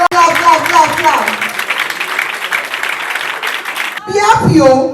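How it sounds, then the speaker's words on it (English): An audience at a university education fair claps in sustained, dense applause lasting several seconds, with a voice heard at the start and again at the end. "Clap it very well. Clap it very well. Give it to them. Clap."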